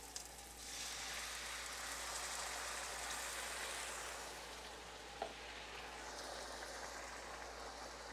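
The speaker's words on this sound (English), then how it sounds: "you can hear that frying there" Steady frying sizzle of rice in a pan for Mexican rice, a continuous crackling hiss at close range with no talking, plus one small clink partway through.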